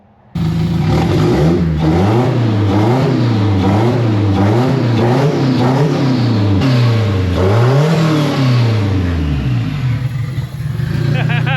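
Engine of a turbo-swapped project car running very rich just after starting, revved again and again in quick rising and falling bursts, loud and close, then settling toward idle; a voice speaks over it.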